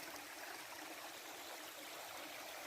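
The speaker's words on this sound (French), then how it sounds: "il me semblait bien que j'écoutais de l'eau couler. Alors, c'est un petit ruisseau." A small stream of running water trickles and burbles steadily outdoors, a soft continuous wash with faint gurgles and no voices.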